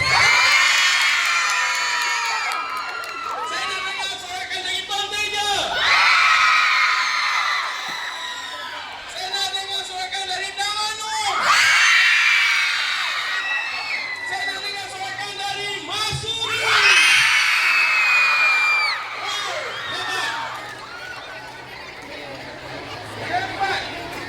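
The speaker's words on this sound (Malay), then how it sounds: "saya nak dengar sorakan dari Tuan Fatimah" Schoolgirls at a secondary school sports-day prize ceremony cheering for their sports house, repeated waves of loud shrill shouting and whooping from a large crowd, each surge swelling and fading, with chatter between bursts.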